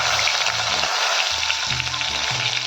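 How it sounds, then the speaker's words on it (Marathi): Curry leaves hit hot oil already spluttering with mustard seeds and cumin, made for a village-style green tomato chutney, giving a loud, dense, continuous sizzle with crackling pops throughout. "हे बघा छान तळतळायला लागले यात टाकूया आपण कढीपत्ता"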